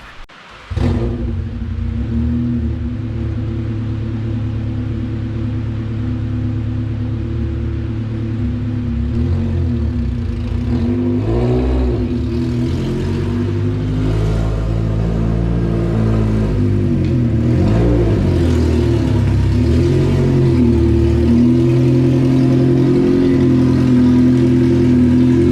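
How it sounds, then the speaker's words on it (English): A car engine on a weak battery cranks slowly and laboriously, a steady low churning rhythm that continues at length without catching, close and loud. "We just cranked it and it's slow cranked."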